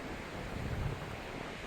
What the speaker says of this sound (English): Hammering westerly winds.